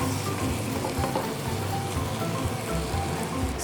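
Bulgogi meat sizzling in an unoiled frying pan, a steady close crackle and hiss that runs the whole time with no talk over it.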